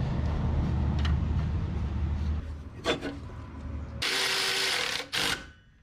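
Ratchet working on the alternator bolts of a 1981 Ford Courier, a few close metallic clicking bursts near the end following low mechanical rumble.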